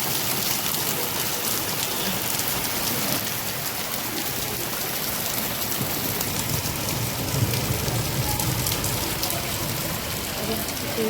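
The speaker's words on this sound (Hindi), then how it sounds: "पूरी इतनी ज़्यादा बारिश आ गई है, वो भी बहुत तेज़ बारिश अचानक से।" Heavy, sudden rain pours down steadily with hail reported, a dense, loud hiss of drops hitting surfaces that stays constant throughout, with no talking over it.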